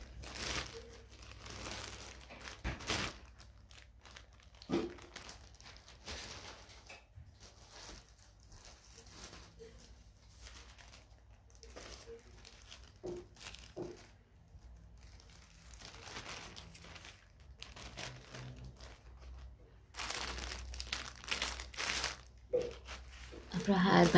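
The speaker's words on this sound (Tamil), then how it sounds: "இதெல்லாமே ஒரு ஜிப்லாக்ல போட்டு வச்சிருக்கேன்." A plastic ziplock bag crinkles and rustles in irregular bursts through the stretch, close by and fairly loud, growing busier near the end, with intermittent low household noise between handlings.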